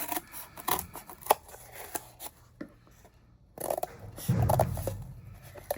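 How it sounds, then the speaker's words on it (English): Scissors cut out a piece of cardboard for a latte-cup pin craft, giving a series of close snips and scraping crunches with pauses between them, quiet and fairly near, with no talking. "we'll go ahead and cut out a piece of cardboard"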